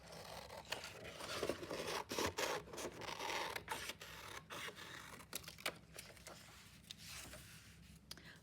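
Scissors cut out paper birch tree shapes, giving a quiet, close stream of crisp snips and rustling paper scrapes in an irregular rhythm throughout.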